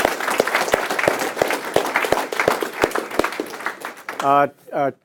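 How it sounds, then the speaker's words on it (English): An audience applauds with rhythmic, fairly close clapping for several seconds, then a voice speaks briefly as it dies down. "Give them a round of applause"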